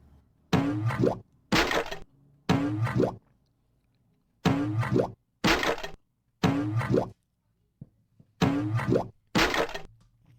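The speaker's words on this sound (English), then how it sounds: "A little bit of jumping on a box, breaking box." Eight short cartoon-style box-breaking effects from Crash Bandicoot, crunching with springy, bouncy tones, come in irregular pairs and singles, separated by silence.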